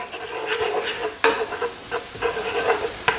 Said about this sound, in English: that's going to be added to our onion and garlic and olive oil mixture real soon